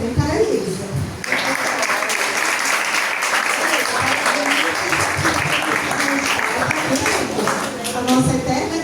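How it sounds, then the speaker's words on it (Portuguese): Sustained audience applause at a poetry evening in a library, dense clapping with children's voices and chatter mixed in, continuing for several seconds before tapering. "aplausos também para a Elisa."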